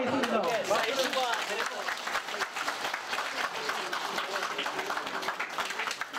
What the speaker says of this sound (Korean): 그럼 박수쳐주시면 감사하겠습니다